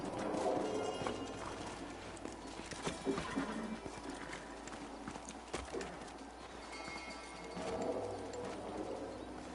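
Horse hooves clip-clopping at a steady walk in the video game Red Dead Redemption, amid outdoor ambience with faint bird calls and a brief whinny; no talking.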